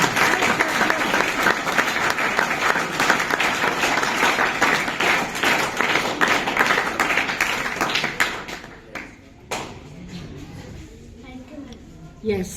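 Schoolchildren clap loudly and steadily in a classroom during a National Science Day project presentation, with dense continuous applause that fades away near the end as voices take over.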